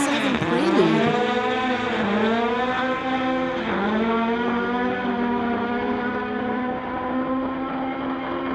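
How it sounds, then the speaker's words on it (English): Drag race between a Mini Cooper and a 1987 Honda Prelude, a loud sustained engine roar with rising and shifting pitch as the cars accelerate, close and continuous. "That Mini Cooper from Victoria going against Herb Roop in the 87 Prelude."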